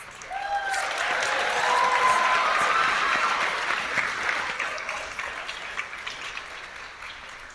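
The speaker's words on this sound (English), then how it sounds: "Let's give all of our crew a big round of applause." Loud audience applause fills a high school Mr. WHS pageant show as the crew is thanked, a dense sustained wash of clapping that swells early, then gradually thins and fades toward the end.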